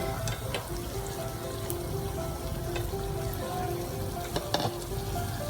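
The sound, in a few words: lauki koftas deep frying in oil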